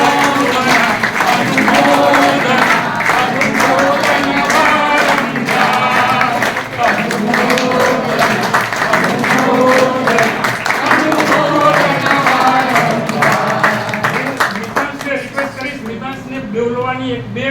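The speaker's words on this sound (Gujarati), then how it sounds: "એમના બધા માટે, પૂરા ફેમિલી માટે એક જોરદાર તાળીઓ" A large audience at a community gathering breaks into loud, sustained applause for a family, clapping steadily close by for the whole stretch before easing slightly at the end.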